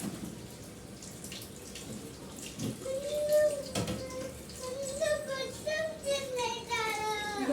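A household tap runs for hand washing, a steady splashing stream into a sink that grows fuller partway through, while a voice and an adult's speech break in over the water.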